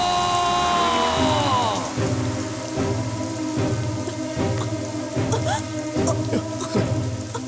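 Rain falls in a Hindi-dubbed romantic movie scene, a steady close hiss mixed under music with a regular beat and sustained tones.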